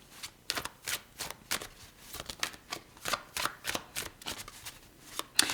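Tarot cards being shuffled by hand in a quiet room, a steady series of crisp riffling and slapping bursts close up, with no one talking.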